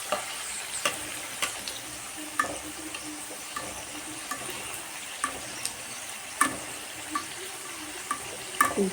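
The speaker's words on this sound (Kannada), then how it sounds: "ಈ ಥರ ನಾವು ಅದ್ರ ಮೇಲ್ಗಡೆ ಎಣ್ಣೆ ಬಿಡೋದ್ರಿಂದ ಕ್ಲೀನಾಗಿ ಅದು ದಪ್ಪಾಗಿ ಪೂರಿ ಉದ್ದಂಗೆ ಉಬ್ಬುತ್ತೆ" Poori frying in hot oil, with a soft steady sizzle and scattered light clicks and taps of utensils, fairly faint and alone.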